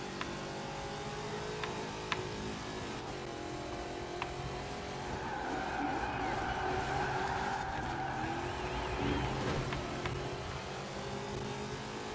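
In the racing video game Forza Horizon 4, a car engine drones steadily while tires skid and squeal through tight handbrake corners. The sound is continuous and moderately loud, with no talk.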